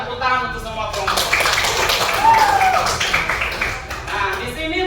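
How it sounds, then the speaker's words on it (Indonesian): A ninth-grade class applauds all the groups, a burst of many claps under lively chatter and voices, fairly close and moderately loud. "Tepuk tangan untuk semua kelompok."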